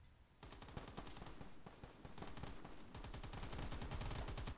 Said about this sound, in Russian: Откуда, блин, ты стреляешь?